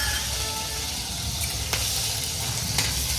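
Green chilies sizzle and fry in hot oil for a tadka on a Maharashtrian fasting-meal stove, a steady close crackle with a few sharper pops and scraping stirs.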